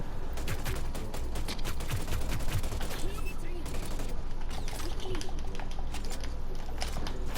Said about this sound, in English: You already have the Hexfire, so it shoots insanely quick.